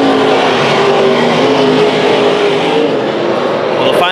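Race cars roar around Arizona Speedway during a heat race at the Snowbird Classic, a dense continuous engine drone with a faint rising pass near the end, while a commentator talks over it.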